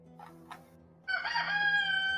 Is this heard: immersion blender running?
no